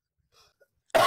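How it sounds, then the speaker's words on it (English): A single sharp cough bursts out loud at the very end after near silence, preceded by a few faint soft rustles. "That was a good cough."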